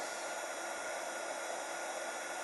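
A heat gun blows steadily for pyrography gel on wood, a constant close whooshing hiss of hot air with an even, unbroken roar and no pauses.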